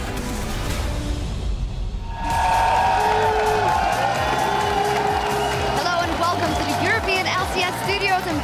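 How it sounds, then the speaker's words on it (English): A studio crowd at an LCS esports match cheers and whoops, swelling loudly after a quieter opening, while a caster talks over the noise. "The crowd is hyped and ready to go for our big matches today."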